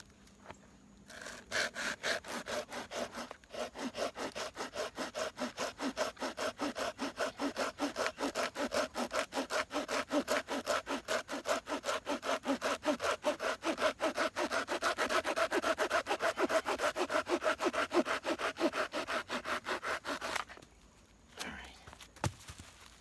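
A folding saw rasps through a 2.5 inch piece of dried pine in fast, even back-and-forth strokes, loud and close for about twenty seconds before stopping, with a few thumps afterward.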